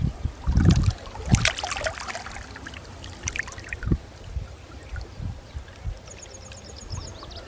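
Irrigation water flows into a millet field, trickling and splashing in a steady stream with a few louder surges near the start and faint background noises around it.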